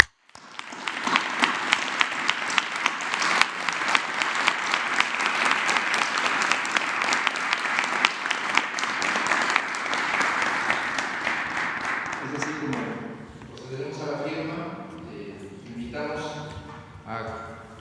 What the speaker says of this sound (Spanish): yo propondría un aplauso por este entendimiento